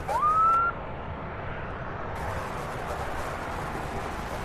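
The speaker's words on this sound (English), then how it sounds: "You hear the siren? They're scaring the birds with a..." Airport bird-scaring siren at Louisville International Airport, a short rising wail heard at a distance that cuts off after under a second, followed by steady outdoor ambient noise.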